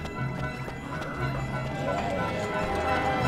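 Rapid, continuous hoofbeats of galloping horses in the video game Ni No Kuni with a game-like mix of background sound, steady and fairly loud throughout.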